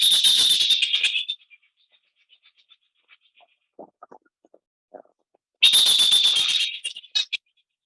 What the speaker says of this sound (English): those are grey-faced, Cook's petrels